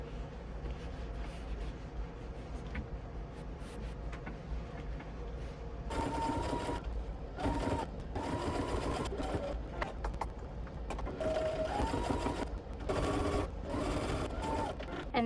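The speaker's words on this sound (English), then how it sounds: "Top stitch this 1/8 inch from top to bottom on both sides of your" A sewing machine top stitches fabric book sleeves an eighth of an inch from the edge, running in a steady close whir that picks up speed partway through, with short pauses and rhythmic needle chatter.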